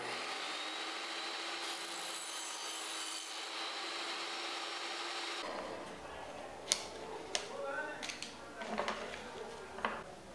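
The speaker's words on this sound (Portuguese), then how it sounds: "Eu vou cortar 8 peças dessa" Thin wooden pieces being cut by hand for a Japanese woven-star marquetry pattern: a steady rasping saw stroke runs continuously for several seconds, then gives way to scattered sharp taps and small knocks of pieces being handled.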